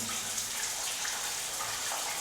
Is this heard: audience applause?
no